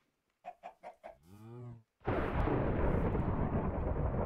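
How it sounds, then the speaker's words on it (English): Short bursts of chicken clucking from game animals on a farm, four quick clucks then a drawn-out squawk, cut off by a loud, steady roaring rush that swamps everything after. "Chicken."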